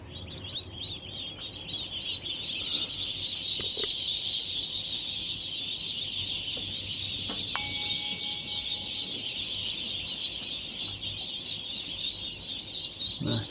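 Ducks on a farm during ND-AI vaccination, with a steady, continuous chorus of high peeping and chirping calls that stays fairly loud throughout and has a few sharper cries on top.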